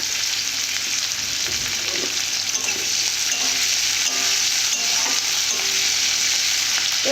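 Chopped onion and slit green chili frying steadily in hot oil for a crab curry, a continuous close, even sizzle with faint stirring scrapes and no voices.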